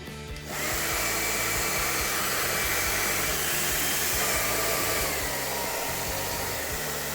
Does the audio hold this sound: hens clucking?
no